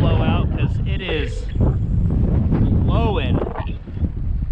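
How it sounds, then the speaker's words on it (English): Strong wind gusts across a lake at Crane Falls, Idaho, during a bass fishing trip, roaring steadily and close against the microphone while voices talk over it throughout. "let this wind blow out because it is"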